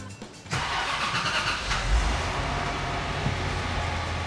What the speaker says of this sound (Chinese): 那请那个 James 哥帮我们发动一下